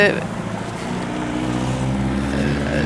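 Cars drive over a cobblestone street below an apartment, making a steady, loud rumbling roar of tyres and engines that holds for the full stretch.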